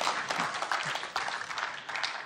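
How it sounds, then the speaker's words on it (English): Youth service audience gives a round of applause, a moderate patter of many hands clapping with uneven swells, a few voices faintly beneath. "let's give them a big round of applause."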